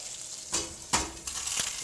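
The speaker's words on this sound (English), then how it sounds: "I'm gonna put it right into the pan and let it kind of sizzle." Butter sizzles and crackles in a hot cast iron pan, a steady hiss with a few sharper pops and bursts of louder frying.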